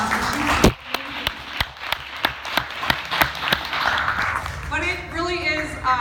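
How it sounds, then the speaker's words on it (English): Scattered claps from an audience at a Clare County Democrats gathering, sounding as sparse, evenly spaced hand strikes over a murmuring room, with a voice speaking near the end. "So I think that we should give her a round of applause."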